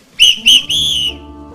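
Three sharp, loud whistle blasts close up at a political anniversary ceremony, two short toots followed by a longer one, then quiet.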